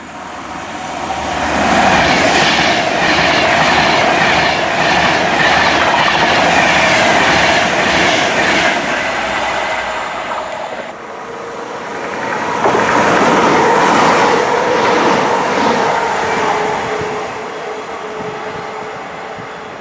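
A train runs near Uddingston Station on a Scottish railway line, a loud rumbling roll with rhythmic wheel clatter that swells, briefly dips, then builds again.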